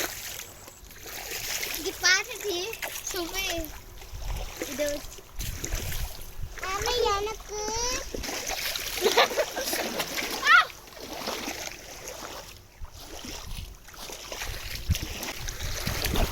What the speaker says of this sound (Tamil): அங்கே போய் பசங்க வந்து கொஞ்சம் நேரம் அந்த தண்ணியில் விளாண்டுட்டு இருந்தாங்க.